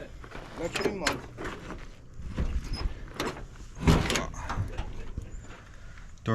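A stiff door on a Chevy long-bed pickup truck is forced open, giving a few clunks, creaks and metallic bangs close by, with people talking around it.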